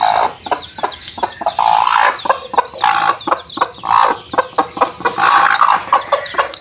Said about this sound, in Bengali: কতগুলো মুরগির বাচ্চা উঠেছে দেখুন।